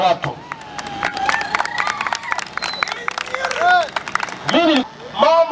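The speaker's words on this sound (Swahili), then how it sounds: "Natamani kuona makofi na vigelegele kwa watu." A crowd at a Tanzanian religious gathering claps and cheers while high, warbling ululations rise in bursts near the end, and a voice speaks over the noise.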